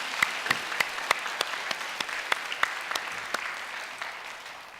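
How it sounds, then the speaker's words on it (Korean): A church congregation applauds elderly mothers at a Wednesday mothers' prayer meeting, a warm, steady round of clapping with sharper individual claps standing out, moderately loud and continuing throughout without speech. "연세 드신 어머니들을 향해서 한번 격려의 박수해 주시면 좋을 것 같습니다"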